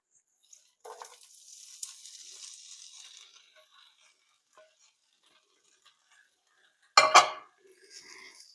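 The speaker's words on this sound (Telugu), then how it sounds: "నూనె వేసి ఈ చిక్కుడుకాయలు వేసేస్తాను" Broad beans tipped into a hot oiled pan make a brief scraping clatter and a soft sizzle. A few seconds of near silence follow, then a sharp, loud burst of stirring or a utensil clanging against the pan.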